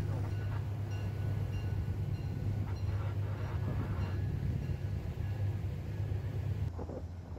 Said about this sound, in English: a new train was going by